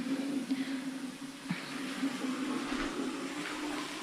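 Water runs steadily from a tap somewhere nearby as someone fills a container, a continuous hiss and rush with a low hum underneath, moderately loud and without talk.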